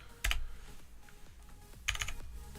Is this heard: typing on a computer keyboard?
yes